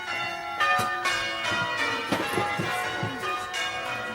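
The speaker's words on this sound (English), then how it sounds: "St. Giles's bells are ringing round" St. Giles's church bells ringing, a continuous peal of overlapping strikes with rich ringing overtones, fairly close and loud, no voices.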